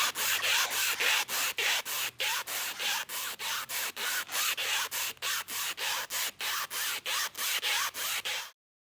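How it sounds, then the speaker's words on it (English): Sneakers twisting on the wet floor of a parking garage, a fast, even series of rough, squeaky rubbing scrapes like sawing strokes, close and steady for about eight seconds before stopping abruptly. "That was the sound of my mother twisting her feet while wearing sneakers on the wet floor of a parking garage"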